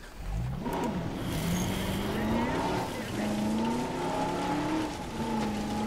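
A vehicle engine in Jurassic World Evolution drones steadily at close range with slight pitch shifts as it drives, under a continuous voice talking throughout.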